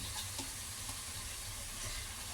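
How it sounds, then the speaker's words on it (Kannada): Curry leaves and chopped fenugreek leaves sizzle steadily in a hot pan, a soft continuous frying hiss with faint stirring, no voices. "ಈಗ ಕರಿಬೇವಿನ ಸೊಪ್ಪು ಹಾಕೋತಾ ಇದ್ದೀನಿ"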